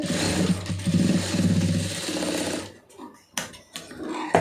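A sewing machine runs steadily for under three seconds, stitching a folded seam with a fast mechanical whir, then stops, followed by scattered clicks and handling noises nearby.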